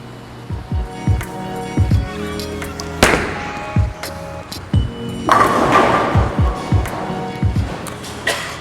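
A Hammer NU 2.0 Low Flare bowling ball with a 1000-grit surface rolls down a lane, with a run of thuds and clatters and then a louder crash of pins, amid the steady rumble and knocks of a busy bowling alley.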